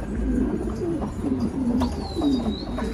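Close pigeons coo in a run of soft, rolling calls, with a thin whistle-like chirp near the end and faint background rustle.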